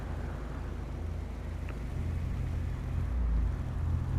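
A car engine in GTA Online idles and revs with a low, steady rumble that swells slightly toward the end, heard alone at a moderate level.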